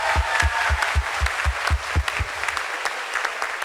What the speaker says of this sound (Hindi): चलो एक जोर से ताली बजाओ।